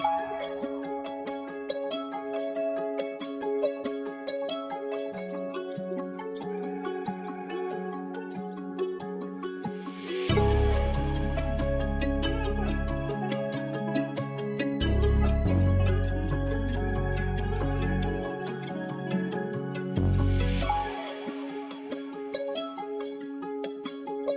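Ethnic-style guitar loop pitched down an octave and sped up to 93 BPM, plucked melodic lines alone at first, then joined midway by heavy deep bass hits. No talking.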